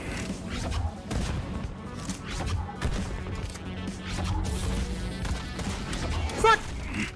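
Pistol shots in the Wild West-themed VR game Pistol Whip, a rapid irregular series of sharp cracks and impacts over pulsing background music.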